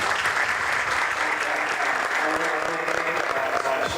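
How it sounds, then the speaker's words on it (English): Sustained applause from a conference audience at a telecom AI panel discussion, steady and dense clapping throughout, fairly loud and close with no talk over it. "let's give a round of applause"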